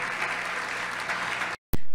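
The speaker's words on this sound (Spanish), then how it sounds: "Démosle un fuerte aplauso al Señor, porque Dios es bueno." A church congregation claps loudly and steadily during a Wednesday evening service, a dense, even burst of applause that cuts off abruptly near the end.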